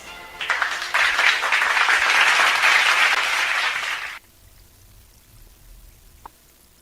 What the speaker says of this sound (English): let us give Honorable Jaime V. Mendoza a big warm of applause